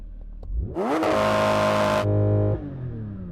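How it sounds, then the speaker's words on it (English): A Lamborghini Aventador SV engine, put in drive with both paddles pulled, revs up sharply, holds a loud high-pitched roar for nearly two seconds, then drops back to a lower idle. "If you put it into drive, then pull up both paddles, it will let you rev it higher."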